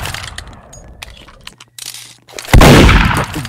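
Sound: gunshots in the video game Murder Mystery 2

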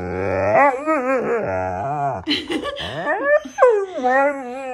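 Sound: dog whimpering

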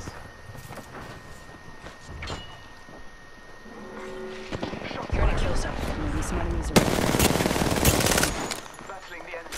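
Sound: enemy gunfire in a battle royale video game

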